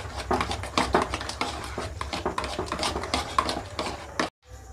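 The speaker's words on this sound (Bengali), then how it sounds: "এটা এরকমভাবে ফেটিয়ে নিতে হবে যাতে দুটো জিনিস ভালোভাবে মিক্সড হয়ে যায়।" Mango and yogurt are whisked together in a bowl with a rapid, steady clatter of a utensil tapping and scraping against the sides, close and fairly loud, stopping abruptly near the end, no speech.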